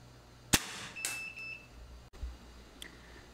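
A CBC B19X gas-ram air rifle fires a 0.7-gram Gamo PBA pellet: one sharp, close crack, then a few short electronic beeps and a faint later click in a quiet room.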